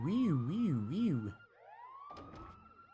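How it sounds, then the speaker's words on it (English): Two electronic sirens from a video game overlap, one wailing up and down steadily while a second holds a high rising tone, followed by a brief burst of clattering game noise, all fairly loud and close. "Damn, we have two different sirens going on at the same time."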